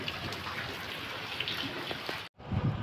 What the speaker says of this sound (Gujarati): વરસાદ આમ તમે પાણી જોઈ શકો છો ગાજવાનું શરૂ છે